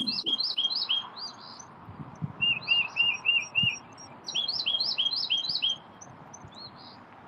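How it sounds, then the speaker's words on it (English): Several birds chirp and sing outdoors in repeated bursts of bright, quick notes, fairly clear against a quiet background with occasional low bumps. "listen to those birds"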